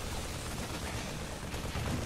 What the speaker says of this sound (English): Really nice baneling explosions here.